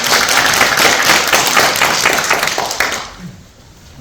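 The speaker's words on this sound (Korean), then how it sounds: "박수를 보시겠습니다." Audience applause at an indoor seminar on insurance claims, a crowd clapping steadily for about three seconds before it quickly fades into near silence.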